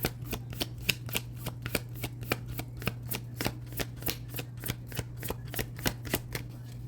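Guidance cards are shuffled by hand in a fast, steady run of crisp riffling flicks, roughly three per second, close up over a constant low electrical hum.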